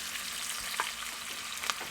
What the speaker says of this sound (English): So this is my onion going and burn here.